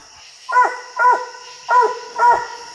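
Hunting dogs bark at a raccoon up a tree during a night raccoon hunt: four loud, close barks at an even rhythm, with no other sound around them.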